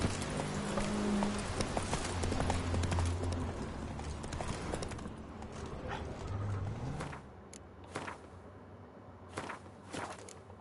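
Horse hooves clip-clop steadily at a riding pace in The Witcher 3, the rhythmic footfalls near and clear over game ambience for about seven seconds before thinning to a few sparse hits.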